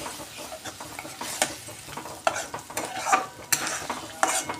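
Egg curry masala in oil sizzling as water goes in, with repeated scraping and stirring strokes against the pan, close and moderately loud throughout.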